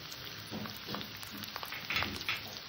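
Chopped onion frying in a pan with ginger-garlic paste just added, a steady soft sizzle with small crackles and pops, moderately quiet and continuous with no voices.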